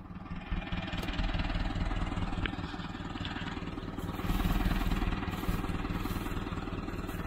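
A tractor engine idles nearby with a steady, chugging low-pitched throb that runs throughout, set on a farm beside hay bales.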